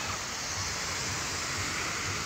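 Ocean waves wash ashore at a Mexican Riviera beach on a hot day, a loud, steady roar of surf with no distinct breaks, close by and filling the whole stretch.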